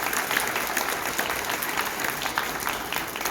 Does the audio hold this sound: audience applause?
yes